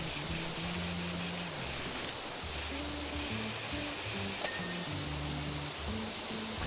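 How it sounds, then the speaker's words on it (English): Pressure washer water spraying in PowerWash Simulator 2, a constant hissing white-noise rush at steady volume, with soft game music tones underneath throughout. "This is the constant sound of the water."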